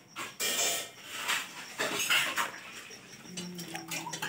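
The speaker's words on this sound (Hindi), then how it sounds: "दोनों बहनों बर्तन मांज रही है।" Two sisters washing dishes, pots and utensils at home, with scattered clinks and clatters of metal and crockery, scrubbing and a little running water, close and irregular.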